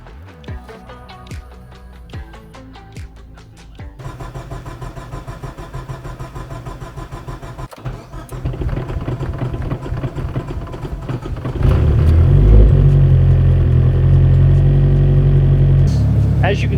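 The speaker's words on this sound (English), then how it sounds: "Once it starts, it runs okay, but man, does it struggle to start." A Mitsubishi Evo engine labours through a long, struggling start, with someone talking over the cranking, before it catches and settles into a loud, rumbling idle close by.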